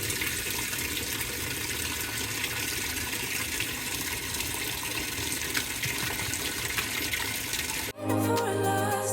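Hot water rushes steadily into a cleaning appliance filling on a super cycle, a constant loud gushing wash that runs unbroken, then cuts off abruptly near the end into a quieter background.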